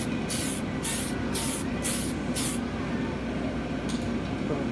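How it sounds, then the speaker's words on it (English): An aerosol can sprays paint onto a lexan RC car body in five quick hissing bursts in a row, then a shorter burst later, over a steady background rumble. "we'll give this a little spray and see if that's what we're looking for"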